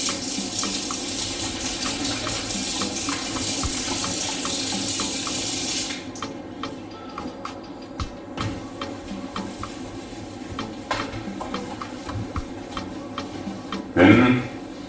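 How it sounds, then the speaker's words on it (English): Tap water runs steadily into a basin while it is washed with dishwashing soap, a loud continuous splash that stops partway, followed by quieter dripping, clinks and handling sounds. "So what I'm going to do now is to first wash the basin so that it's clean."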